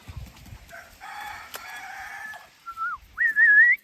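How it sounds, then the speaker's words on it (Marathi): A fighting-breed rooster crows outdoors: a short call, then a rising, wavering crow at the end that grows louder and clear, with bird and ambient noise around it and no talking. "कोंबडा कसला आहे यो? फायटर आहे"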